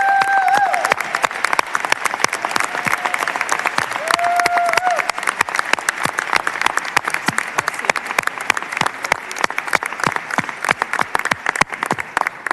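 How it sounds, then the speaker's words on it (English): Sustained applause fills the Texas House chamber for about twelve seconds, a dense, steady wash of many hands clapping with a few faint voices underneath. "I would ask all members to give you a round of applause"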